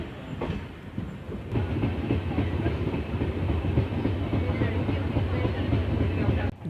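Humsafar Express pulling out of Dhuri Junction, a steady low rumble and rhythmic wheel clatter heard from onboard, fairly constant throughout with no voices.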